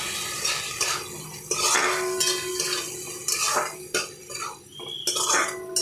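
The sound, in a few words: fried chicken balls added to pan of sauce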